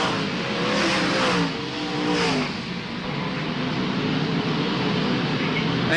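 Speedway race cars at full throttle during a night race meeting at Wagga Wagga, a steady loud engine roar with passing swells and a crowd-like wash, no clear talk.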